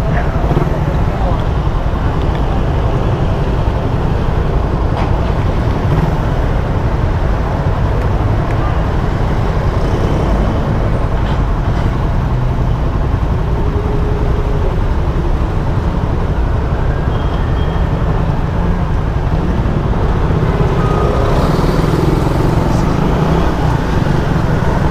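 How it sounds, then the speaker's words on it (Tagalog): Road traffic passes around a Raider 150 carbureted motorcycle on a long ride, a loud continuous roar of engines, tyres and wind with a few vehicles swelling nearby and a voice speaking faintly underneath. "Traffic"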